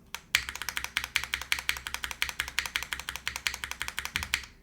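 A Mode SixtyFive mechanical keyboard spacebar is pressed over and over in quick, steady succession, each press a crisp, thocky tap close by.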